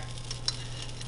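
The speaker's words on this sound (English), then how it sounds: "all I'm really doing is heating up the corn" Frozen corn warms in a pan with a faint, quiet sizzle and light stirring clicks over a low steady hum.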